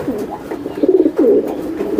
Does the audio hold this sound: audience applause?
no